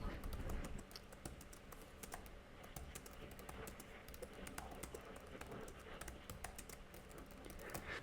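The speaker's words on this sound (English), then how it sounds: "I'm typing sideways, so I'm making a lot of mistakes" Fast, uneven clicking of keys on a Razer Blade 15 laptop keyboard with flat, low-travel keys, typed sideways, a continuous quiet patter close by with faint background noise.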